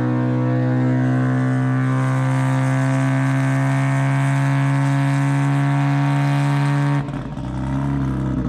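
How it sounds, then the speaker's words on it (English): Rotary-engined race car idling and revving at a drag strip, a loud buzzing, harmonic-rich engine drone held steady for several seconds before it abruptly cuts to a rougher, lower tone. "they're making noise with the rotary"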